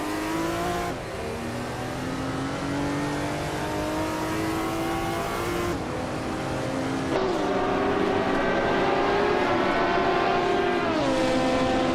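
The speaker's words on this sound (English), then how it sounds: "Jazz is driving a 1981 Lancia Monte Carlo Turbo" A 1981 Lancia Monte Carlo Turbo race car in a racing video game drones steadily at high revs, its engine pitch climbing through gears with brief shift drops, loud and continuous with no talk.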